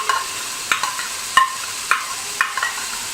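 Chopped garlic and ginger stirred into kadhi in a pan, a spoon scraping in regular strokes about every half second over a soft background sizzle.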